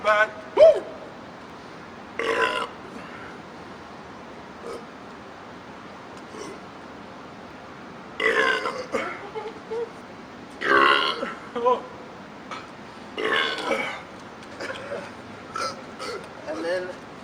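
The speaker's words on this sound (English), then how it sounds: "And then y'all rate the burps too." A run of loud belches during a burping challenge, several drawn-out rough bursts separated by pauses, with people chuckling and talking between them.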